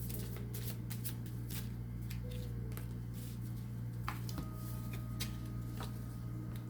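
A deck of cards being shuffled for a tarot-style reading, soft continuous riffling with scattered sharp ticks, quiet and close over a steady low hum.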